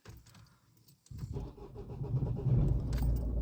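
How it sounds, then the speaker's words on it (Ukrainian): A 2005 Opel Astra H with a faulty tachometer is started. Keys jangle faintly, then the starter cranks and the engine catches into a steady idle that swells louder toward the end, with no talk. "Заводимо автомобіль."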